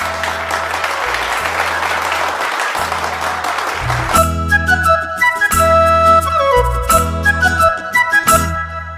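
Loud, dense applause from an audience at the Voice of Odisha Season 5 stage show, welcoming a singer. It fills the first four seconds, then a music accompaniment starts and carries on without clapping.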